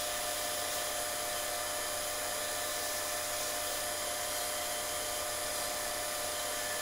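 A machined hourglass prototype part is sanded with 400 grit sandpaper, heard as a continuous bright hissing whir at even, fairly quiet level with no breaks.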